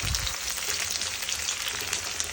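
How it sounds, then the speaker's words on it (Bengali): Onion fries with black cumin in hot oil in a pan, giving a dense, continuous sizzle that stays loud and even throughout. "তারপরে দিয়ে দিচ্ছি হচ্ছে অনিয়ন, এটাকে একটু ভেজে নিই"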